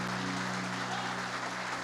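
A church congregation applauds during an evening service, a dense, steady burst of many hands clapping together that fills the room without pause.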